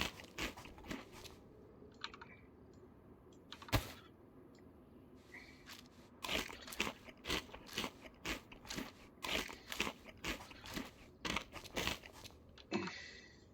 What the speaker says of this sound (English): let me just eat these. Too many crisps in my bag